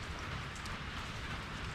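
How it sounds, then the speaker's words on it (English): Rain falls steadily outdoors during fish filleting, a soft even hiss of drops with no voices. "Sorry about the rain noise,"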